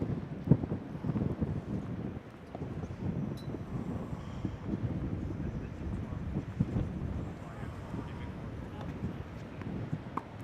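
Wind gusts buffet the microphone at an outdoor boys' high school tennis match, a low, constant rumble with a commentator talking over it.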